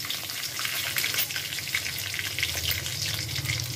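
Eggs fry in oil in a pan, giving a steady, dense sizzle with crackling pops that continue evenly throughout, close by and alone.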